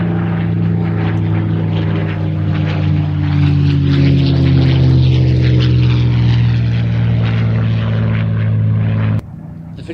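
A propeller aircraft engine, a Spitfire or P-51, drones loud and steady with a throbbing low roar that cuts off abruptly near the end.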